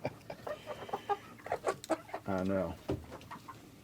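Easter Egger chicken clucking close by in a backyard coop, a series of short soft clucks and one drawn-out call, with a person speaking briefly over it.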